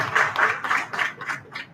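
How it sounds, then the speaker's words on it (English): A meetup crowd at a UX design event claps together: dense, steady applause that holds for a couple of seconds, then slowly thins and softens. Nobody speaks. "Just give a round of applause for all of us."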